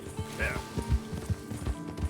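A Missouri Fox Trotter being ridden in Red Dead Redemption 2 makes steady, rhythmic clip-clop hoofbeats at a brisk gait, close and clear, while someone talks over them.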